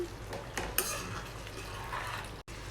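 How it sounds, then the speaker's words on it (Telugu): A spoon scrapes and clinks against a pan while paneer butter masala is stirred, a sharp metal knock near the start and steady scraping, fairly close and alone with no talk. "సో మరొకసారి అంతా బాగా మిక్స్ చేసుకోండి."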